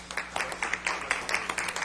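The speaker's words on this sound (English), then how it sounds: "you can applaud" Scattered applause from a small audience at a board of education meeting, a few hands clapping unevenly in a room, moderately quiet.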